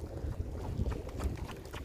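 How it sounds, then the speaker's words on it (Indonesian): Strong southeast wind blows across open sea during a fishing trip, a steady rough roar buffeting the microphone with low rumbling gusts over faint water sounds. "Angin tenggara juga dari sana lumayan, ya lumayan kuat lah."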